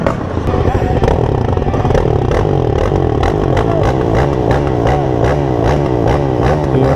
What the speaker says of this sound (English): It's a good thing about having a dirt bike, you can play around like that.